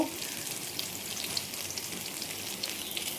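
Paneer pieces fry in oil in a pan, a steady crackling sizzle with fine popping, close and moderately quiet throughout.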